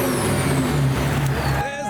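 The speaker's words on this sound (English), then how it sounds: "We got both the diesel automotive legends idling together," A Toyota Supra and a Commer van, both diesel, idling together at a car show, a close, loud, steady engine rumble with a brief hiss near the end.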